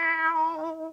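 A human voice imitates a cat's meow: one long, drawn-out, harmonic mewing cry, close and clear, that wavers and slowly falls before a brief rising catch at the end.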